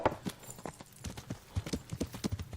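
Horse hooves clip-clop at a steady riding pace in the medieval game Kingdom Come: Deliverance, a close, quiet rhythm of uneven hoof strikes.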